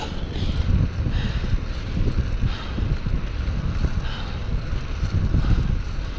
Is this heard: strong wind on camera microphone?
yes